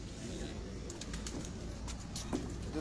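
Soft pigeon cooing and faint bird calls sound from a loft over a steady hum of background noise, with no talking.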